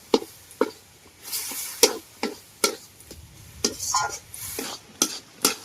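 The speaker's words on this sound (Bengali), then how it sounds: "জল দিয়ে এটাকে নেড়ে নেব" A spoon stirs spiced soybean chop filling loosened with water in a pan, giving steady rhythmic scraping strokes roughly every half second, close and clear, with a faint sizzle between them.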